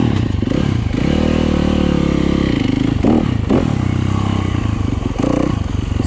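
A Yamaha YZ250FX dirt bike ridden through woods, its engine loud and close throughout, revving up and down in a continuous raspy drone with clattering and scraping from the trail.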